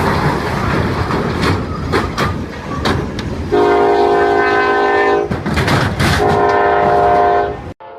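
A CSX freight train rumbles past with clattering wheels while its horn blasts in two long, loud sustained blows, close to the tracks where a car was struck.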